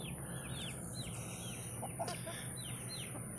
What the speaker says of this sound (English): I'm going to throw these chickens some bread right quick.